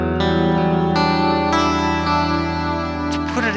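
An electric guitar with a reverb effect switched on plays sustained chords, each strum ringing out and blending into a lush, echoing wash that lingers between strikes.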